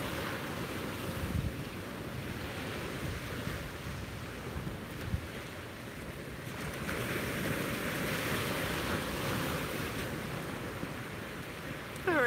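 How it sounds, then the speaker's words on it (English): Ocean waves wash steadily on a beach, a broad continuous roar of surf with wind buffeting the microphone, close and unbroken with no voices. "soak in this gorgeous view and the sound of these amazing waves"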